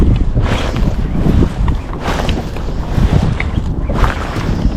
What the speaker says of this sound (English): I mean, it's windy